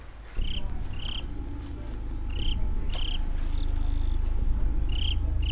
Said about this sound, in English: there's another cricket